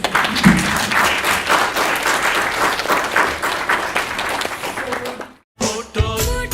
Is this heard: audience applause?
yes